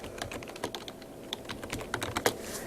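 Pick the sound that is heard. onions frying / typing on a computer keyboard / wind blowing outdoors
typing on a computer keyboard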